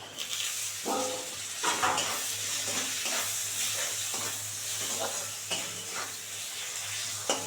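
Tomato fries in a hot pan with a turmeric spice base, giving a moderate sizzle broken by repeated scraping strokes of a spoon as it is stirred close up.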